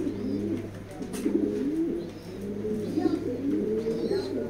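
A pair of racing maxi pigeons cooing in steady, repeated low throaty phrases, close by, over a faint constant hum with no talk.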